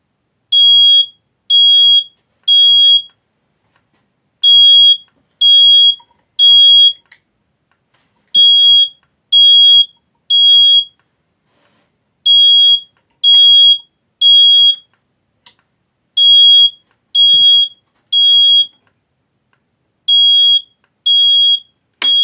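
Alarm horn in a home fire alarm system, its horn glued: loud, piercing high beeps in repeating groups of three with short pauses between, close and steady throughout, no talking.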